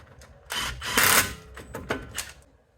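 A ratchet with a 5/8 12-point socket tightens hub bolts during a second-generation Ram truck hub replacement, giving clicking and grinding mechanical bursts close by, with a louder sustained stretch early and a few shorter clicks after, no talk.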